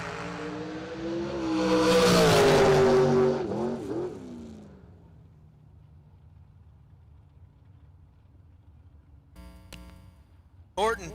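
Trent Horton's drag race car in a Mullis chassis on Hoosier tires roars past, a loud rising engine wail that peaks and then fades into the distance, with an announcer talking over the track.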